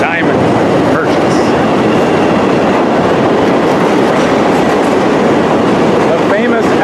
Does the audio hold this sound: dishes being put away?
no